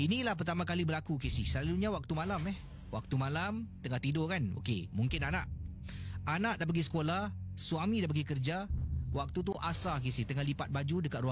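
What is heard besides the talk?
No everyday noises stand out.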